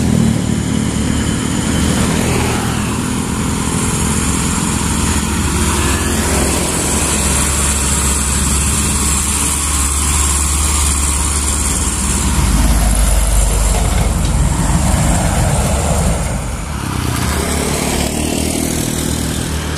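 A Mitsubishi Canter truck loaded with mountain stone passes along a road, its loud diesel engine rumbling and droning steadily for about twenty seconds, swelling near the middle and easing off toward the end.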